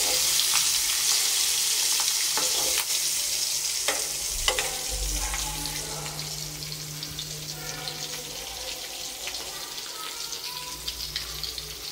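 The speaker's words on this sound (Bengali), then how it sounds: "এখন আমি মাছটা তেলের ভিতরে দিয়ে দিতেছি।" Hilsa fish pieces frying in hot oil for a Bengali hilsa bhuna, a loud, steady, close sizzle with bursts of spitting and crackling throughout, a low hum underneath and no talking.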